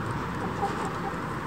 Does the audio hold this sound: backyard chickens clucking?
yes